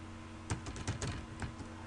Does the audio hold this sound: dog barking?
no